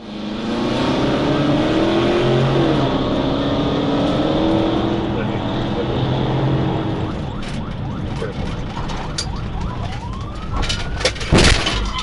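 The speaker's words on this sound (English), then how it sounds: "The vehicle initially slowed before suddenly accelerating and fleeing." A yellow Dodge Challenger accelerating away from police, with engine roar and rising revs under wailing sirens, wind and other vehicle noise, plus a sharp knock near the end.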